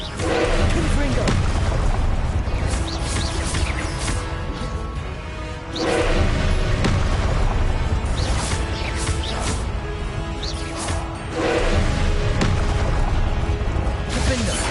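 Confringo explosion spells in Hogwarts Legacy go off as several loud, crashing blasts, spaced a few seconds apart over a dense, continuous roar of game sound.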